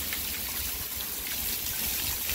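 Heavy rain pouring steadily on a windy day north of Houston, a dense broadband hiss of falling water close by with a continuous, unbroken wash and no voices.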